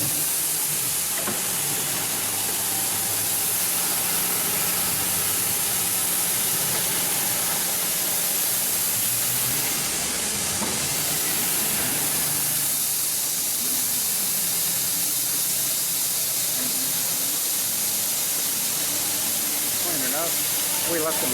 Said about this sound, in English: That's just high pressure water.